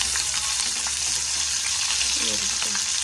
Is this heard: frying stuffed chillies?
yes